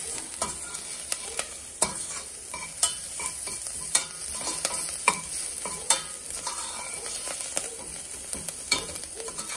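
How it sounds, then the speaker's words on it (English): Garlic frying in olive oil for a marinara sauce, stirred with regular scraping strokes against the pan about once a second over a constant close sizzle. "just a little bit more olive oil. We're gonna stir it up like that."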